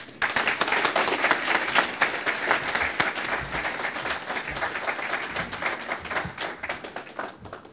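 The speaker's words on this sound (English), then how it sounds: "How about another round of applause for Shoaib?" An audience at a South Asian heart disease outreach evening claps steadily for several seconds. The applause is dense and even, then thins slightly toward the end.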